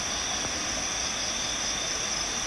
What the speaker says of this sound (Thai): เดินมาหายเหนื่อยเลย ฟังเสียงน้ำตก